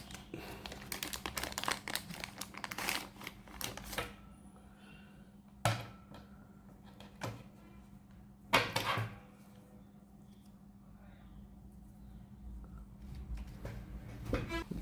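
Packaging for a magnetic charging cable being opened: crinkly plastic and paper rustling, a few sharp snaps and tearing bursts, close and fairly quiet, with pauses of near-silence between handling noises.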